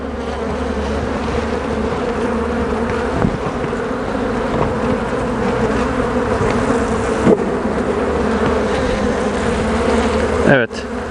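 Honeybees drone in a dense, continuous buzz at an opened hive during an inspection, loud and close throughout, with a few faint knocks of frames and a brief handling noise near the end.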